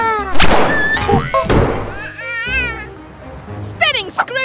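A cartoon cat gives several loud meows mixed with thumps and lively voiced sounds, with animated voices speaking over parts of it.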